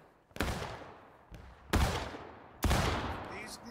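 Musket fire in War of Rights, three sharp loud shots plus a fainter one, each cracking out and rolling away in a long echoing tail.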